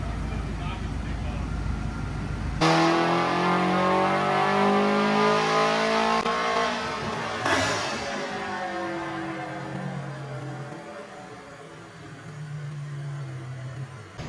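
A car engine on a dyno revs hard and loud, its rising tone climbing through a long pull before easing off and settling to a lower drone, with voices faint in the background.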